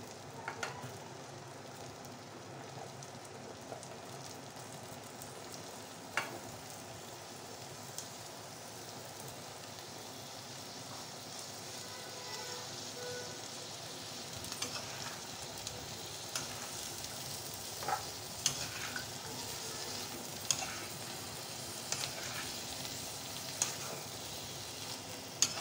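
Meat curry sizzles steadily as it is sautéed in a pan, a continuous crackling hiss with scattered sharper pops and occasional stirring sounds throughout, close and moderately loud.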